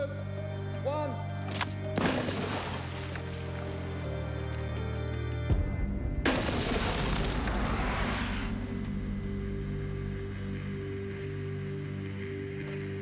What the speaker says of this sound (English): this one fires the grapnel and rope over 150 feet up the cliffs